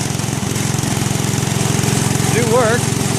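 A 1967 Case 155 garden tractor with a 42-inch mower deck, its small engine running with a steady, rough, close-up chugging drone, long unused, while a voice talks briefly over it.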